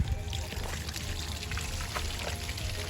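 Water runs from a garden hose into the flushing attachment of an outboard motor being winterized, a steady close pour and trickle with no talk.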